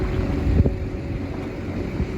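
Steady wind rushing and buffeting a microphone outdoors, close and continuous, during practice with a small kite or wing before switching to a new size 18 canopy, with no talk over it.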